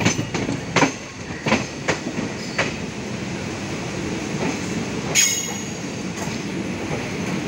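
A Tirupati-Puri Express rolls into Khurda Road Junction with rhythmic clickety-clack of wheels over rail joints, heard loud from on board, with occasional squeals and a steady rumble throughout.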